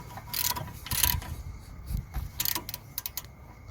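A wrench turns 21mm bolts with a run of quick ratcheting clicks in bursts, close by and fairly loud, with no talking.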